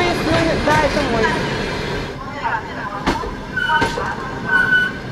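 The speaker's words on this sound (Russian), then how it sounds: "Это купейные проезжают." Passenger sleeper cars of a train rolling past on the Crimean railway, a steady loud rumble with wheel squeals and sharp clanks, while people talk nearby.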